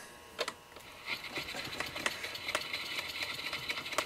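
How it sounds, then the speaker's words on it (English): Hornady case trimmer cutting a brass cartridge case, a fairly faint, steady mechanical whirring with a run of light scraping ticks, with no voices over it. "get a feel for this Hornady trimmer"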